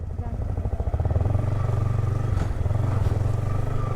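A motorcycle rides along a dusty, unpaved rural road in Bhojpur district, Nepal, its engine thrumming close and steady throughout with a rapid low pulse.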